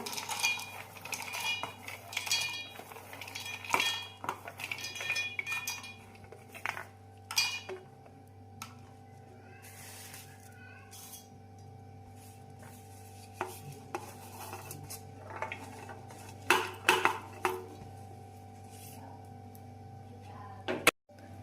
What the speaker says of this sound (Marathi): सर्व आता आपण मिक्सरच्या भांड्यात काढून घेऊया